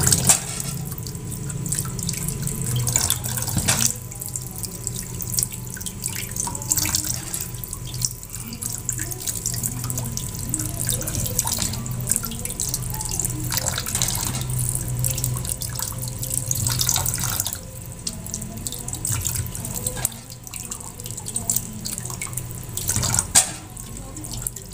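Plums washed by hand under a running kitchen tap, a steady close splash of water into a sink with occasional drips and handling noises throughout, no talking.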